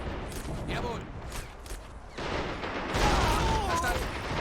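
Battle noise from the game Men of War: Assault Squad 2, set in the 1940 invasion of France at Dinant: repeated gunfire bursts and mortar blasts rumble continuously, growing louder and denser toward the end, with someone talking over it.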